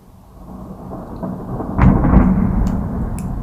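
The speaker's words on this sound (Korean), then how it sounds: "천둥이" Thunder rolls in a rainstorm, a deep rumble swelling to a loud crack-laden peak midway and lingering, with steady rain hiss throughout and a few faint clicks.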